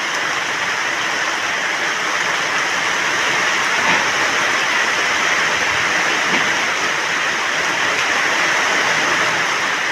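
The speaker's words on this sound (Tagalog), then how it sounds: "Nakakagulat na po ang bugso ng ulan." A sudden heavy rain downpour pours steadily and loudly in a dense, even hiss, nearby and unbroken, with no voices.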